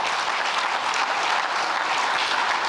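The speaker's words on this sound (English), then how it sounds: "Round of applause for them" Steady applause from an audience at an alumni awards dinner at a college arts centre, honoring the chefs and staff, a dense, even wash of clapping that continues without pause.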